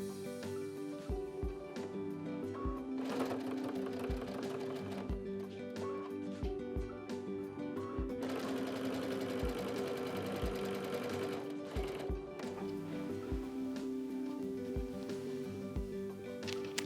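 A sewing machine stitches quilt seams with a continuous rhythmic whir and regular needle thumps, steady throughout, with faint room background and no talk over it.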